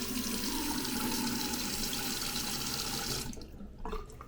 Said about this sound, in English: Now here's a test of the sink.